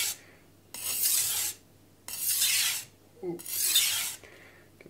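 A Morihei Karasu kitchen knife is drawn across a sharpening stone in three long, loud rasping strokes separated by short pauses, and a brief voiced exclamation cuts in between strokes.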